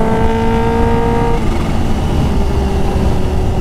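A Kawasaki Ninja H2 sportbike, rated around 250 horsepower, roars loud and close, its engine holding a high droning rev before the pitch drops into a rough, sustained exhaust rumble.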